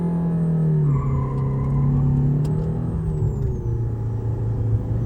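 A Maruti Suzuki Brezza diesel and a Mahindra Thar accelerate side by side in a drag race, a loud, steady engine drone and rumble with rising revs, close and continuous with no talk.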